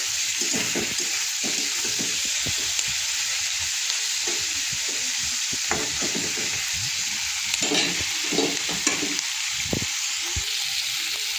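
Tomatoes and onions fry in a pan with a steady, loud sizzle, broken by repeated scraping and stirring strokes of a spatula throughout.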